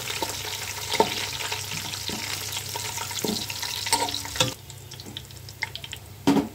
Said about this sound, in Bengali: পেঁয়াজটা লাল করে ভাজা হয়েছে